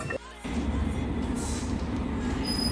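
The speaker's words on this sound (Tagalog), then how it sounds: "Ayun na everyone ang aming train." A train pulls into a UK station, a steady rumbling roar of wheels and carriages building after a brief lull, with a faint high squeal near the end.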